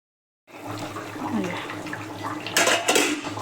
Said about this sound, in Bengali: এবার চিকেনটাতে আমি জল ঢেলে দেবো